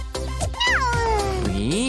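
A cat meows twice up close, a short call followed by a longer, drawn-out wavering meow.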